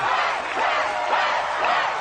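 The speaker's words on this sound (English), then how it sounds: "Listen to this crowd." A roaring stadium crowd at an American Ninja Warrior competition cheers and yells continuously, loud and dense, surging slightly as a competitor struggles on the course.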